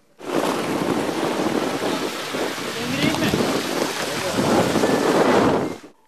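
Heavy rain pounds down during a severe thunderstorm in Antalya, with a loud, dense roar of rainfall and rumbling thunder that hold steady for several seconds before cutting off.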